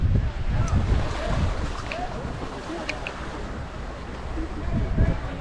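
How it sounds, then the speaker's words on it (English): Wind buffeting and water rushing past a moving catamaran on open sea off Varadero, Cuba, with waves slapping the hull in uneven surges. "Somewhere in the middle of the ocean."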